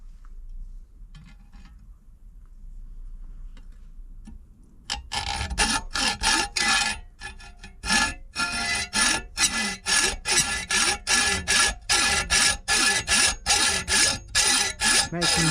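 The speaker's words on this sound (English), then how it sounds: "So I'll begin by cutting the little tags that hold all the pieces together." Hand saw cutting through the small metal tags holding laser-cut steel parts for a 7¼-inch gauge Garratt model locomotive, a quiet start giving way to loud, steady back-and-forth rasping strokes in a regular rhythm, close up and without talk.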